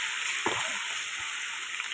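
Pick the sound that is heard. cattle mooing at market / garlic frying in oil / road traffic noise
garlic frying in oil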